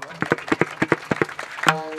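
Rhythmic, fairly quick hand clapping from a kirtan audience gathered in a village, steady beats lasting a couple of seconds with a voice rising briefly near the end.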